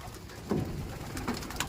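Pigeons coo in a loft in Nasugbu, with two soft, throaty coos rising over a steady background murmur of the birds.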